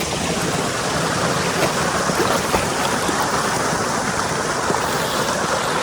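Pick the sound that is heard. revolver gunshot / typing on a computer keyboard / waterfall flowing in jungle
waterfall flowing in jungle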